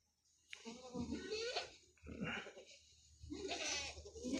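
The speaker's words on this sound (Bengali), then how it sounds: "ও এই ছাগলগুলো ও দেখেন রুমের মধ্যে সবগুলা এখন ঢুকবো।" Goats bleating on a farm in Saudi Arabia as they crowd into their pen, several loud nearby bleats in a row, with someone talking now and then between the calls.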